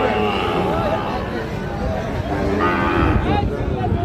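A Sahiwal calf moos at a cattle market in a long, loud, drawn-out call. People chatter close by under and around it.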